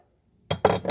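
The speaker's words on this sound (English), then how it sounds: "And then we're going to add our milk and stir gently." Clinking of a utensil against a bowl as milk is stirred into flour and cocoa for an old-fashioned scratch chocolate pie, a few close, bright knocks after a brief silence.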